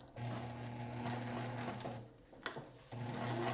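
Sewing machine running a seam on a fabric cube organizer at stitch length 4, basting just inside the presser foot; a steady close whirring drone that pauses briefly near the middle, then resumes.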